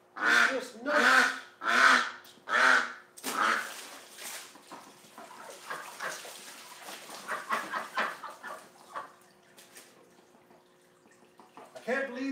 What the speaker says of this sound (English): I can't believe this duck